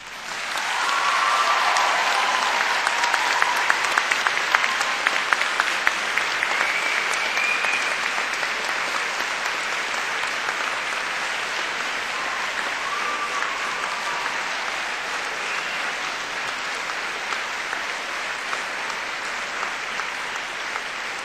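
Graduation ceremony audience at Cardiff University breaking into sustained, enthusiastic applause, a dense wash of many hands clapping that holds steady for over twenty seconds.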